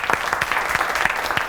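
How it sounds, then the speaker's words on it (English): Audience applause on a TV style-court show, a dense patter of many hands clapping at a steady, moderate volume with no voices over it. "That is also another applause, I think."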